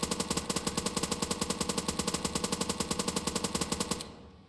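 An MP5 submachine gun in a COD Zombies-style shooter fires a long, steady full-auto burst of about forty evenly spaced loud cracks, then stops abruptly with a short fading tail.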